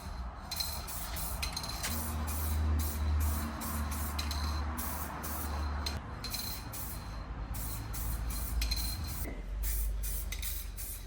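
Spray paint going onto a boat engine cover as a light first coat, heard as a close, steady hiss in repeated bursts over a low hum, with no talking.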